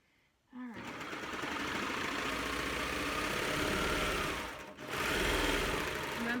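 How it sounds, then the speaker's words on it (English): A serger sewing machine stitches the seam of a fabric pillowcase, its fast mechanical whir running steady and close for several seconds with a brief pause near the end before resuming. "I love my serger."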